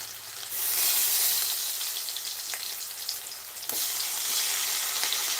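Tomato pieces fry in hot oil in a pan while making ridge gourd curry, a bright, steady sizzle and hiss close to the pan, with a few sharp crackles and a sudden louder burst near the end.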